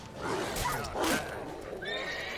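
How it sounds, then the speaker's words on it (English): A horse in The Witcher 3: Wild Hunt neighs and whinnies in two loud, close bursts over steady game ambience, with a faint clip-clop of hooves and no talk. "Get off the fucking horse, Geralt."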